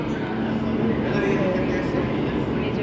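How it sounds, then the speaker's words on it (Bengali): A train pulling into a railway station, a steady low rumble of wheels and carriages filling the clip, close and fairly loud, with crowd noise mixed in. "এই যে ট্রেন ঢুকলো।"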